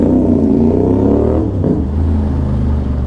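A CFMoto 450SR motorcycle with a newly installed quick shifter revs loudly up close, its engine drone dipping briefly mid-way before climbing and holding steady again.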